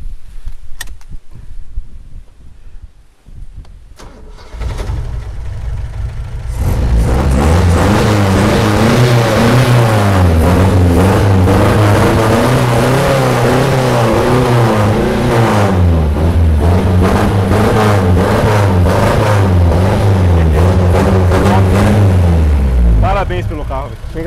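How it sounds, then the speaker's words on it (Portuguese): Chevrolet Opala four-cylinder engine with Weber carburetion revving hard and close, a steady loud roar that climbs and dips in repeated throttle blips after a quiet idle start. "Liga ele aí, vamos escutar o ronco pra dar uma olhada."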